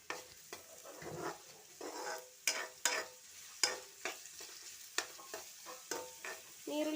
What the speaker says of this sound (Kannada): ಈಗ ಈರುಳ್ಳಿ ಚೆನ್ನಾಗಿ ಫ್ರೈ ಆಗ್ತಾ ಇದೆ.